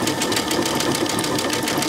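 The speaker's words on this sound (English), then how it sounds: "And I'm sewing on the" A sewing machine fitted with a border guide foot stitches a straight line in one steady, continuous mechanical whir, close and fairly loud, with no talking.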